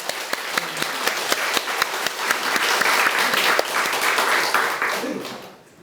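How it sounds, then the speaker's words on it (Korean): A congregation at a Won Buddhist temple service claps vigorously, a rhythmic burst of many hands with a few sharp individual claps standing out, building and then tapering off at the end. "힘찬 박수로 기운을 한번 보내겠습니다."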